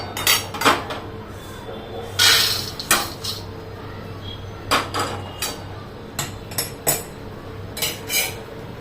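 Roasted rice flour for crispy rice chakli (murukku) being scraped from a pan into a bowl, heard as a series of clinking, scraping metal utensil knocks at an irregular pace, fairly close and alone.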